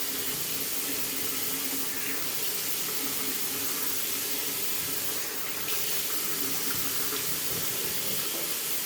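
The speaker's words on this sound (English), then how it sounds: "Let's go wash my face." Water runs steadily from a bathroom sink tap while a face is washed, a continuous close hiss and splash with occasional louder bursts and no talking.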